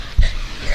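A dog gives a single short, low whine right at the start, close and fairly loud, then only faint breathing-like noise follows.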